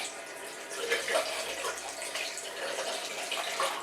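Water running steadily from a tap over hands at a sink, a close, continuous splashing flow with small shifts in texture as the hands move through it.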